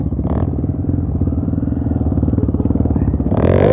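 A heavy motorcycle rides a muddy dirt trail through dense forest, its engine close and loud with a throbbing note that rises sharply near the end.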